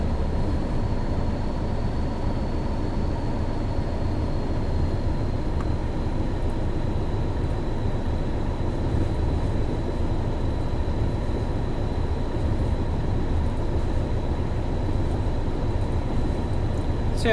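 Class 31 diesel locomotive in Train Sim 2021 running steadily: a continuous low engine drone with a faint high whine, even and unbroken throughout, with no talking.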